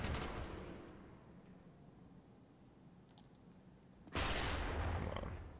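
Gunfire in the Call of Duty: Black Ops video game comes as faint scattered shots, then a sudden loud burst of rapid fire near the end.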